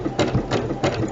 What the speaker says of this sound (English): Lower your presser foot and begin to sew.